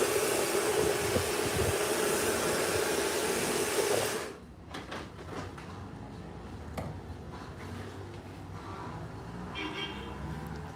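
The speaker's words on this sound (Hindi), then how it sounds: "आगे से बाउंस चाहिए तो आपको यहाँ से ही ब्लो ड्रायर करना पड़ेगा" A hair blow dryer roars loudly and continuously while hair is styled during a soft layer haircut, then cuts out partway through, leaving quieter handling noises and light rustling.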